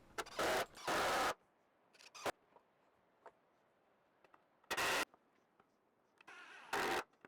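Sawhorse legs wedged into a wooden I-beam are screwed in place with a screwdriver: short, loud bursts of driving noise come in separate spurts, with quiet pauses and faint clicks in between, close up.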